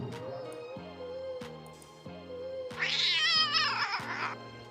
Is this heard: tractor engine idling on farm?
no